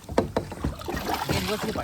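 A kayak paddled through water among mangroves, with close, uneven splashes and paddle strokes against light wind noise over under two seconds.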